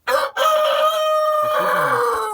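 A Minorca rooster crows loudly and close by, one long sustained cock-a-doodle-doo with a steady pitch held throughout, heard alone with no talking.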